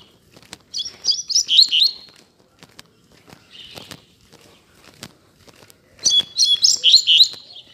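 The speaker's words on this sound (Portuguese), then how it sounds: "Quando o Braddock vê outro coleiro, ele começa a cantar baixo." A coleiro (double-collared seedeater) sings two bright, rapid bursts of twittering song close by, separated by a quiet pause with faint rustling and footsteps.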